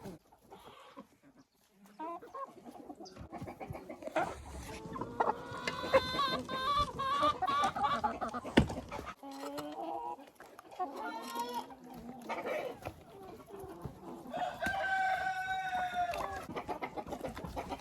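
Hens cluck and squawk continuously, several birds close by, with harsh rising calls; a rooster-like crow stands out near the end.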